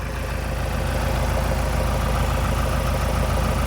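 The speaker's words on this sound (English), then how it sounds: "We are now running the engine." A Ford Transit engine idles steadily, a continuous low rumble with a faint knocking texture that stays even and close throughout, with no talking.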